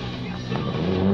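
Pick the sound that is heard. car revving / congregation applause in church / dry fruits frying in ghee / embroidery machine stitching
car revving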